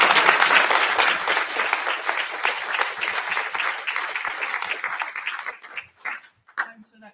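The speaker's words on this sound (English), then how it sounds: "So I think you'll give a great Leicester round of applause." A rally crowd at a food workers' union event in Leicester applauds loudly, dense clapping that thins out and tapers into scattered claps and a few voices near the end.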